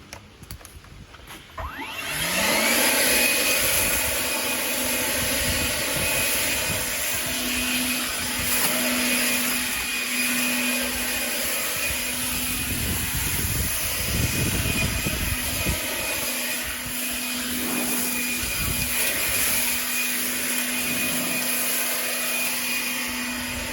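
A Bushranger 36V battery-powered leaf blower starts with a rising whine, then runs in a loud, steady whooshing roar close by, with a slight dip in intensity partway through.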